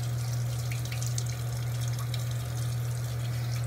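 Tap water runs steadily into a sink for a cold rinse, a continuous close hiss and splash with a low hum underneath and no talking.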